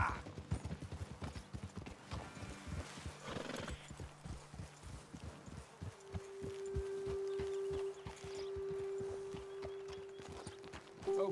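Horse hooves clip-clop at a steady walking rhythm in the video game Red Dead Redemption, close and clear. A whinny comes partway through, followed by a long sustained tone as the steps continue.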